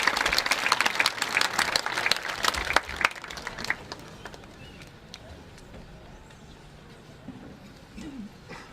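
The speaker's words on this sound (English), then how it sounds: "Another round of applause as they find their seats." An audience at a high school commencement ceremony applauds the concert band, with dense clapping for about four seconds before it thins out and fades into quiet room noise.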